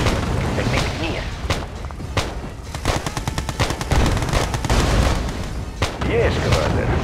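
Units in a video game open fire with rapid, loud bursts of automatic gunfire and booming shots layered over a busy battle din, with voices heard amid the shooting.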